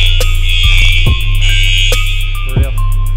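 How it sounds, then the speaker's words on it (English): A gym fire alarm blares loudly and continuously, a steady piercing electronic tone with a low buzzing hum beneath it and a few sharp clacks, with no one talking. "we got the fire alarm up here"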